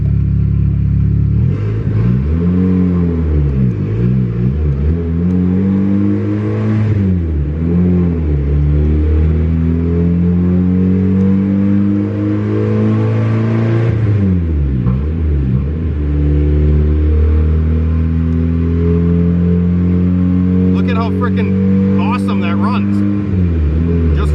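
A tuned single-cam Honda D16 engine with a P28 setup drives and revs, loud and close from inside the car, rising and falling through several long pulls of acceleration over a steady rumble.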